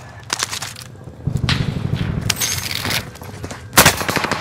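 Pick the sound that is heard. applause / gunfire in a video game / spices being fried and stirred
gunfire in a video game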